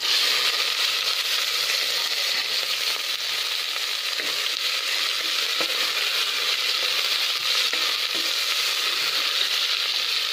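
Onions sautéing in a pan for mutton kuzhambu with fennel seeds: a steady, even hiss of frying oil held close throughout, with faint occasional stirring clicks and no talk.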